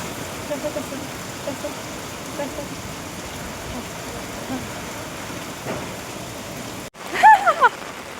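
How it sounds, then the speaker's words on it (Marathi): Heavy monsoon rain pours down in Alibag as a steady, dense hiss that fills the whole stretch, broken near the end by a brief louder burst of sound. "नेमकी पावसाने एवढी वाट लावली की डायरेक्ट पूरच केलाय"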